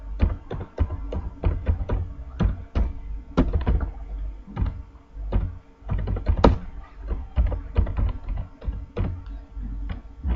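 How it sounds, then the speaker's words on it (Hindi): Typing a school name into a table in Microsoft Word on a computer keyboard, a close, loud run of irregular key clicks and heavier thumps in bursts with brief pauses, no voices. "अब हम लोगों को कोई भी स्कूल का नेम टाइप करना है"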